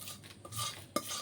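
Fried tempering spices stirred into curd rice (dadhojanam): a short, close scrape and clink of a spoon against the vessel, with a sharp knock near the end, quiet and without speech.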